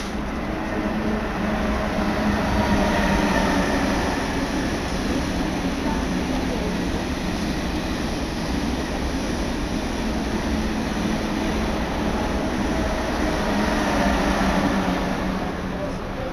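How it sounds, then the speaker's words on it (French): A Paris suburban RER train rumbles steadily in a station, a loud, continuous broadband roar that holds level for the whole stretch without clear breaks. "Ce train FACA en direction de Villiers-le-Bel."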